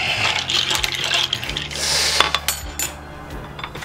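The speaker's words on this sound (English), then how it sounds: "And then stir." A spoon stirs a Halloween blood orange cocktail of orange juice and club soda in a glass, giving a steady run of close, bright clinks and scrapes against the glass with a faint liquid swirl, and no voices.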